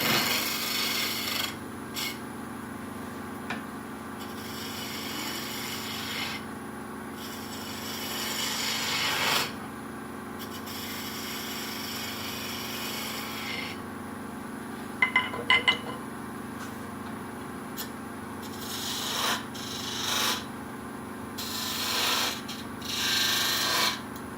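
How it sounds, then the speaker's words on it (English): A turning tool takes a shearing, scraping cut on a wooden snowman spinning on a lathe, giving a steady rasping rub over the motor's hum, with occasional lighter scrapes and a few small clinks. "We use a what I call a shearing cut, scraping cut."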